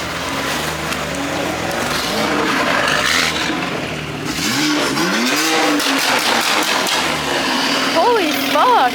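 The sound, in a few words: BMW M4 engine revving loudly at car meet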